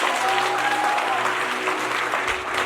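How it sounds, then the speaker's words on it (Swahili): A church congregation claps together in steady, dense applause that fills the room evenly from start to finish, loud and close, with no break in the sound. "Sipigie Yesu makofi mazuri"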